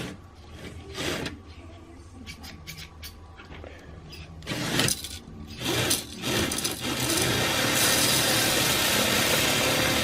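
A decades-old Tyco electric toy truck with an operating gravel hopper unloads its load: whirring gears and ratcheting mechanism clatter in bursts, then a louder continuous mechanical rush, close by.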